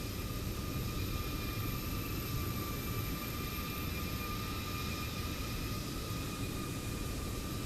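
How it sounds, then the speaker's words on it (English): A small aircraft doing touch-and-go pattern work in Microsoft Flight Simulator 2024 gives a steady, distant engine drone under a broad, hissy wash of noise, with little change across the stretch and no talk. "There's the small aircraft with a pattern work. Very nice. He's doing touch and goes."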